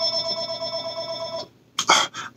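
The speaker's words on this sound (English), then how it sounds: "Phone, let it ring." A telephone rings indoors with a sustained electronic tone that cuts off, followed by a brief cough or throat clearing nearby.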